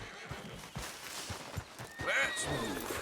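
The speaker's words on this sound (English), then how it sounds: "I think that's the O'Driscoll's horses" A horse whinnies loudly in a Red Dead Redemption II frontier setting, with a long bright call late on and soft irregular hoof thuds underneath throughout.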